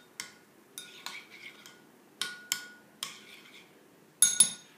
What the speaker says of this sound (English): mix it up with the spoon so that the salt and pepper get stirred